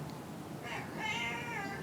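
A cat meows a few times, clear and fairly close, over a low background hum with no talking.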